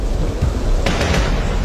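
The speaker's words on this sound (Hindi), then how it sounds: "बारिश और पानी का बहाव दोनों तेज हो रहे हैं।" Heavy rain and rushing water from a cold, fast-flowing Himalayan river make a dense, constant roar, broken near the end by a short burst of crackling that fits thunder.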